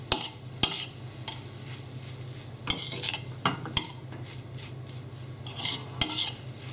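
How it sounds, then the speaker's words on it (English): Utensil scraping and clinking against a frying pan as fake steak pieces with black pepper are stirred, a few sharp knocks standing out over a low steady hiss. "Give that a stir."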